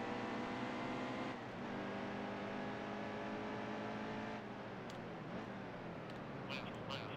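Race cars in the NASCAR Heat 2 video game roar steadily at speed, their engine pitch dipping as they brake into a corner, with a constant layered engine drone throughout.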